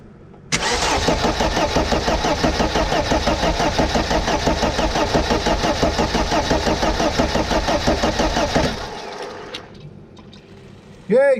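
A Vauxhall Astra GTE 16V being cranked over after a restoration rebuild, a loud, close, rhythmic starter churn that runs for about eight seconds before it cuts off, followed by a brief quiet and a short burst at the end.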